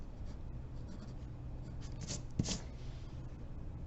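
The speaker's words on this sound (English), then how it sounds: "erase the rest of your perspective line and the horizon line that is cutting through your buildings" Eraser rubbing out pencil perspective and horizon lines on paper in a one-point city drawing, a soft continuous scrubbing with a few stronger strokes and a small tap near the middle, close and quiet.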